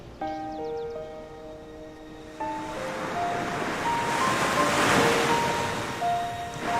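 Sea waves roll and wash steadily, swelling toward a louder surge midway, while gentle tonal music notes play over the surf and wind.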